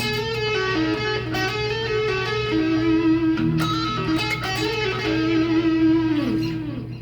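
An electric guitar plays a solo, a steady, loud, sustained and effected lead line with hammer-ons and bends over a held low note, with no talk.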